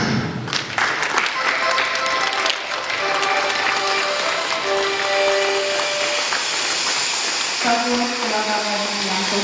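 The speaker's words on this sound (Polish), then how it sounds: "Wielkie brawa." Applause fills a ballroom at a sports awards gala for the first-place winner, steady and dense throughout, with music and voices faintly underneath.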